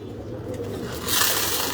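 Pigeons in a pigeon farm give soft, low cooing over a brief stretch, close by against a faint background murmur.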